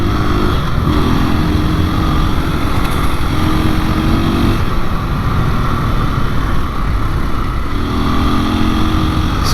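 A 2021 KTM 500 EXC-F or 2022 Beta 430 RR-S dirt bike riding on a winding road, its engine droning loud and steady with wind noise and rising and falling revs.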